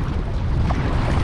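Strong wind blows across open water during a bass fishing trip, a dense, steady rumbling roar of wind buffeting the microphone, with no voices.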